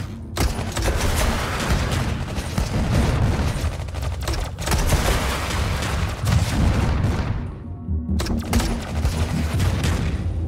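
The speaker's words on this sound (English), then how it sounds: "Grenade!" In the video game Iron Marines, a grenade blast booms amid dense, continuous gunfire and explosions, loud and chaotic throughout, with a brief drop-out near the end before the fire resumes.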